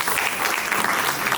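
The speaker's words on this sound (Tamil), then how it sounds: "ஒரு பெரிய கைத்தட்டல் கொடுத்துடலாம்." Audience applause at a classical dance competition grand finale, a dense, bright sheet of clapping that stays loud and even throughout, with no talking over it.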